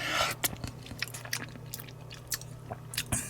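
Canned short-cut spaghetti in tomato sauce being chewed up close, a string of soft, wet bites and squishy mouth sounds in quiet surroundings, with no talking.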